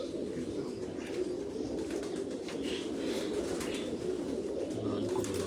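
Pigeons, including lal pari birds, coo steadily on a rooftop, a continuous low murmur with faint wing flutters and chirps at a moderate distance.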